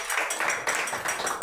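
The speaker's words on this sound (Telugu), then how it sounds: "మీటింగ్కి వచ్చిన వాళ్ళకి గట్టిగా చప్పట్లు కొడదాం." A church meeting audience claps together in a dense, steady wash of applause that stays loud and even for just over a second, with no voices standing out.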